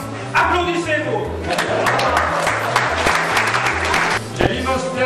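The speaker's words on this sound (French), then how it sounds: "Applaudissez-vous." Audience applause at a stadium gathering of a Swiss army carabinier battalion in Sarnen: a dense, steady wash of clapping runs the whole way, mixed with a voice and low tonal sounds.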